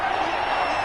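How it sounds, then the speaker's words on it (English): A football stadium crowd roars and whoops at a steady level ahead of a big third down, with commentary talk over the noise. "The crowd getting into it as we come up on a big 3rd down."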